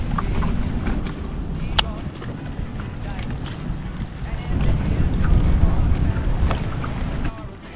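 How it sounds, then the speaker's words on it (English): Wind buffets the microphone outdoors while bass fishing in a heavy low rumble that swells louder midway, with scattered knocks and clatter. "It is windy as you know what now."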